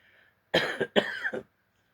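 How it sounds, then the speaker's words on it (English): Two quick, close coughs, one right after the other, break a quiet room with a fan running. "I'm coughing because of the fan."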